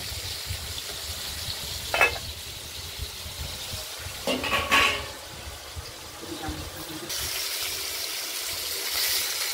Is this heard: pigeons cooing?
no